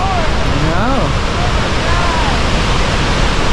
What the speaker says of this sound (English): Several of the lookouts are walls of mist as the waterfalls are crashing down right in front of you